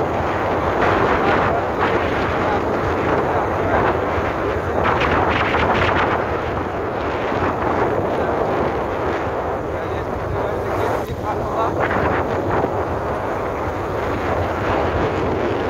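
Rushing floodwater roars loudly and continuously at the Teesta Barrage at Dalia, with wind buffeting the microphone over the torrent.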